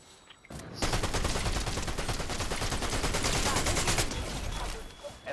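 Rapid automatic gunfire in the Fortnite video game bursts in after a short pause and hammers on continuously for about three seconds, loud and dense, then tapers off.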